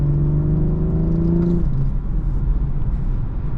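The inline six-cylinder engine of a 2019 BMW 440i xDrive drones loudly from inside the cabin while driving, a steady low engine note that holds, then drops into road rumble and whir, with no talking.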